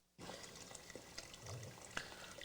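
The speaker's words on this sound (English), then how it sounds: "let me throw a little bit more water in this" Water for pasta pours into a pot in a steady, close rushing stream that starts abruptly and continues with a bubbling, splashing texture throughout.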